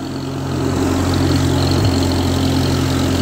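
A 1955 Ferguson TEA20 tractor engine idles steadily close by, a low even chugging hum that holds the same pitch throughout with no voices.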